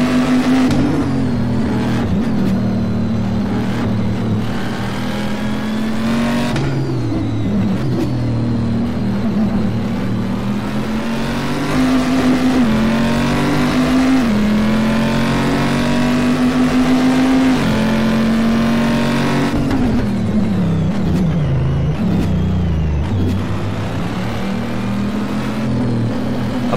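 A Camaro GT race car in a racing video game on the Nürburgring Nordschleife holds a loud, steady engine drone, rising through each gear and then dropping through several shifts as it brakes and accelerates, with no talk over it.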